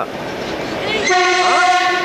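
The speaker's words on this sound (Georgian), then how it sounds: "ეგი არის ძველი მატარებელი" An old train's horn blares loud and close with a sustained harmonic tone, rising out of rumbling rail noise, in Georgia near Kutaisi.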